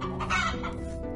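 Chickens cluck briefly and softly in the farming game Hearthlands, a short burst of low clucking over a quiet game background.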